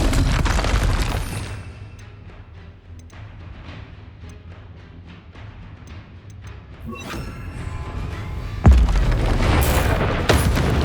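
A Confringo explosion spell goes off in the video game Hogwarts Legacy. A heavy boom opens the clip and fades into a lower rumble, then a second loud, crashing blast bursts out near the end.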